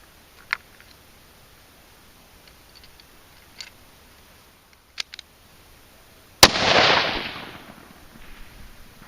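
A Ruger American rifle in 6.5 Creedmoor fires a single loud, sharp crack at an outdoor range, followed by a long fading roll of echo, after a few faint ticks and clicks in near silence.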